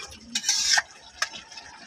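Dried fish cooking in a pan, stirred with short scraping strokes over a soft sizzle, two quick bursts of stirring within a couple of seconds.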